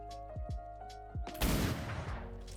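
A pistol is fired at a training dummy during cadet drills, one sharp, loud crack followed by a broad burst of noise and reverberation, after a few short spoken calls.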